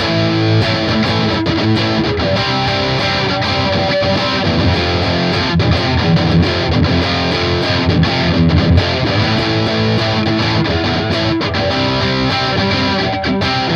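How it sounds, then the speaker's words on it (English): Danelectro electric guitar played as a heavily distorted rhythm part for a song recording, with a dense, continuous, loud crunchy strum and steady chugging throughout, and no talking. "So first I'm gonna play my Danelectro guitar, and I choose this guitar for the rhythm part."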